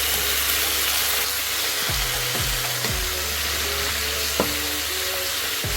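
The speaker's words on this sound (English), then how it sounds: "Now we're gonna add our steak back into the mix." Steak stir-fries with tomatoes for Peruvian lomo saltado, a steady close sizzle with a few scraping stirs of the pan near the middle and a clatter toward the end.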